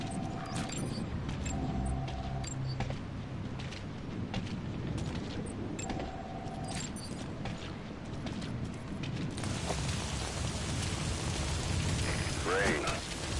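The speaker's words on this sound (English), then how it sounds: "Sound of rainfall should help to mask your footsteps." Steady, dense rainfall in the Metal Gear Solid V game world, a constant hissing wash that runs the whole time with faint game effects and tones layered over it.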